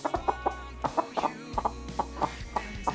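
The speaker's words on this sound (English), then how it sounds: "And then I have another spot over here with a chicken." A hen clucks repeatedly at close range on a small farm, short throaty clucks coming in uneven bursts with no talk over them.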